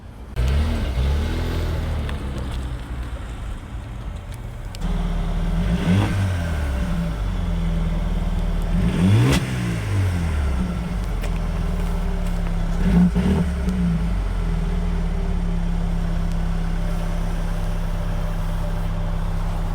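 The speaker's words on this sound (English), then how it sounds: "So that's the CLA 35 engine" A Mercedes-AMG CLA 35 with a 2-liter inline-4 engine revs repeatedly from idle, several sharp climbs and falls in pitch over a steady engine drone, close and loud with no talking.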